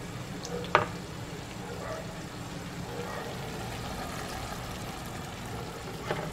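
Chicken stewing in a pot with a little water added, giving a soft, steady simmering sizzle with a few spoon clinks and stirring sounds over it.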